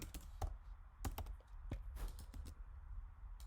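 Fast, irregular keystrokes on a computer keyboard while typing Java code, close and fairly quiet, with sharp clicks in uneven bursts and no talking.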